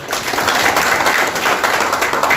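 Audience at a Janasena party gathering in Tirupati claps for a speaker, a steady close burst of dense applause filling the whole moment.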